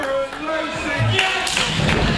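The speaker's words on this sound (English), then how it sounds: "a double overhand chop for good measure" Wrestling chops at a live WrestleForce show in Dagenham: a double overhand chop lands on an opponent as a couple of dull, close thuds, with arena noise and a commentator's voice over them.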